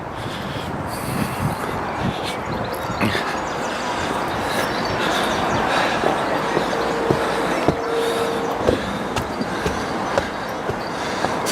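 A train runs through a British railway station without stopping, a loud, continuous rumble of wheels on track with rhythmic clicks and brief squeals as it passes close by.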